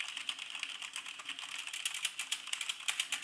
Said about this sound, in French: le test clavier mécanique avec un Corsair K70 équipé de switch MX